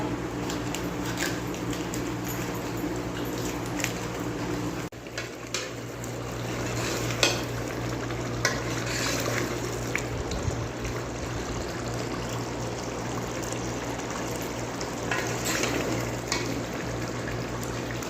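Salan curry simmers in a pot on a village cooking fire, giving a steady bubbling, sizzling hiss with occasional scrapes and clinks of stirring throughout.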